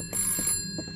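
A telephone rings in a video game, producing a bright electronic ringing tone with rapid repeated pulses that sounds close and loud.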